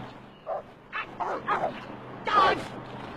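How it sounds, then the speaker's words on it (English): A dog barks and yips in short bursts, about five sharp calls with a whimpering edge, close by and loud, in a 2002 film scene. "Dog!"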